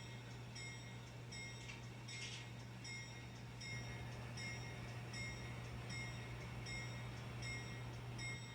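An N scale model train runs along layout track while mainline trains are staged, giving a steady low hum with faint periodic clicking and light high whine, continuous and fairly quiet, with no talking.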